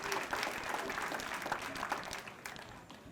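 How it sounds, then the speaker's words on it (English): Applause from an audience at a civic ceremony honoring boxing coaches, a steady wash of many hands clapping, moderately loud and sustained across the whole moment with faint crowd murmur. "So please give them a round of applause just as well."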